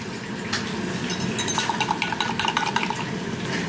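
A spoon stirs a hot milk tea in a cup, a steady run of light scraping and soft clinks against the sides that grows busier toward the end, close and alone.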